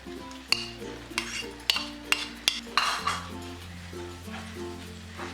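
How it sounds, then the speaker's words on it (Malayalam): Chicken filling is stirred into a pan with a metal spoon, giving a run of about seven rhythmic clinks and scrapes against the pan over a faint background hum, then softer stirring. "ഈ ഇളക്കി വെച്ചിരിക്കുന്ന ചിക്കൻ ഇതിലേക്കിട്ട് നല്ലതുപോലെ ഇതൊന്ന് മിക്സ് ചെയ്ത് കൊടുക്കാം"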